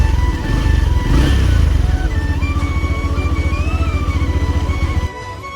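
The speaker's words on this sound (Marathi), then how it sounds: "तर मग मी घेतले बाईक" A motorcycle engine thrums loudly and steadily up close, its rapid pulsing beat holding even until it cuts off near the end.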